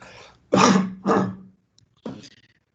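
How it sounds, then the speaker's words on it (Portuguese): Three close, throaty coughs in quick succession, the last one softer after a short pause. "Deixa eu dar uma tossida aqui."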